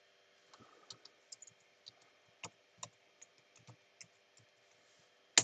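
Typing on a computer keyboard produces irregular, quiet clicks and taps spread across several seconds, close and isolated against a near-silent background, with a louder single clack at the end.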